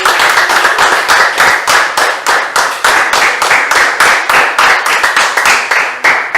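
A church congregation claps in steady rhythmic unison, sharp bright hand claps repeating roughly twice a second for the whole stretch, loud and close with no talking over them.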